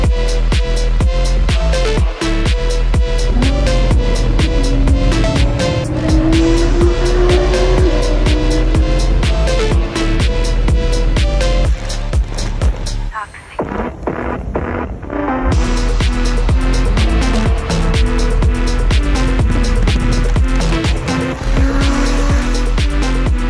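A BMW G80 M3 pulls away under a loud, dense engine roar with tyre noise, sustained nearly throughout with a brief dip partway before the power builds again, close and dominant.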